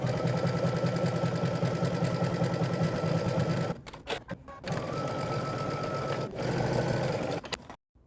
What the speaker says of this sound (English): now head to the sewing machine. We're going to stitch using 5/8 of an inch seam allowance.